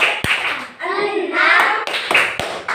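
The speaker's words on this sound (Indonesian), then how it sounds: "permainan tepuk-tepuk surat Al-Kafirun" Children clap rhythmically in a Quran surah memorization game for Surah Al-Kafirun, a few sharp close claps mixed with chanted voices.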